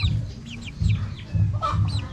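A group of three-week-old chicks makes close, loud clucking and peeping. Soft low calls repeat in bursts, with higher chirps over them and no talking.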